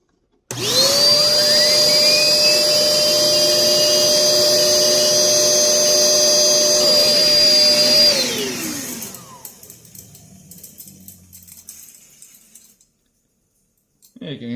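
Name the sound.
flywheel fan car running, wheel rubbing against the fan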